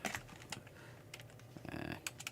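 Fast clicking keystrokes on a computer keyboard, irregular bursts of taps close to the microphone with brief pauses and no voices.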